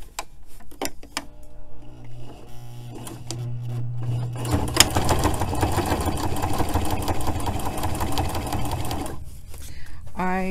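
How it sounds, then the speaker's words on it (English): An industrial sewing machine top-stitches a pocket back onto a jacket. A person speaks first, then the machine starts up with a loud, steady rapid chatter close by, while talk continues underneath. "now I'm sewing the pocket back on"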